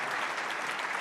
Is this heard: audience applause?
yes